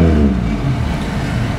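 Loud, steady engine drone from a car with a 3100 engine, muffler missing but most of the exhaust piping still attached, revving with a throaty low rumble, heard up close and continuous with no talking.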